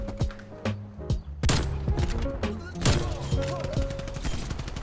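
Gunfire in the video game Call of Duty Black Ops Cold War, with a sniper rifle among several loud sharp shots cracking over game music and ambience, close and punchy, with some scattered echoing impacts.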